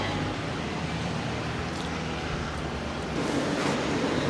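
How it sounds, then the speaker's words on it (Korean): Steady ocean surf washes onto a beach at Krabi, Thailand, a continuous broadband roar of breaking waves mixed with wind, fairly close and constant with no talk. "파도 소리며 뭐며 너무 좋아"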